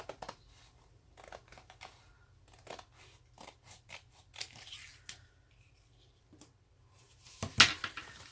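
Scissors snip through diamond adhesive wrap in a series of short, close, crisp cuts with irregular pauses, ending in a louder crinkle of the sheet.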